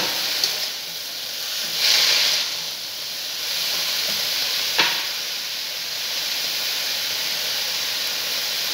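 Tomato, slit green chillies and grated ginger hit a hot pan for a cabbage ghanta, producing a continuous close hiss and sizzle with a couple of brief louder bursts and no voices.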